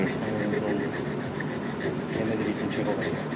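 Rhythmic scratchy rubbing, like sandpaper worked back and forth over wood by hand, in quick regular strokes close up.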